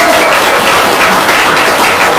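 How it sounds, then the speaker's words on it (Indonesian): Audience applause at a talk, a dense wash of many hands clapping that fills the short stretch at steady volume with no speech over it. "Tepuk tangan dong."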